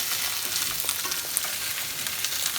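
A meal frying in a cast iron skillet on a gas stove, with a steady close sizzle and crackle and small pops, continuous throughout.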